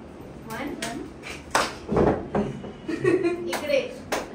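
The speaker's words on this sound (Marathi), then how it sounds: "म्हणजे हा राईट पाय इकडे न्यायचा असं म्हणजे मग टाळी वाजायची" Sharp hand claps ring out at garba dance practice in Nagpur, several crisp hits spaced irregularly among close voices and shuffling movement.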